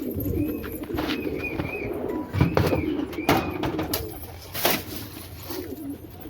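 Several pigeons coo in repeated soft, rolling calls close by, with light rustling and clatter between the calls.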